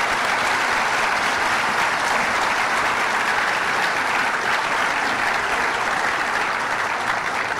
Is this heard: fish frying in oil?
no